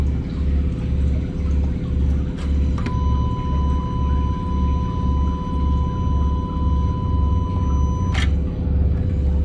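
An electric turbo wastegate actuator on a 2018 Honda Accord running an active test with the engine off, a steady low pulsing motor hum over a faint background, marked by a sharp click and a sustained electronic tone that stops with another click.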